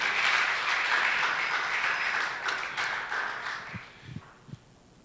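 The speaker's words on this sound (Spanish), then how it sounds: "Denle un aplauso al Rey" A church congregation applauds the King during a sermon, a dense wash of clapping that gradually fades over five seconds and ends in a few scattered final claps.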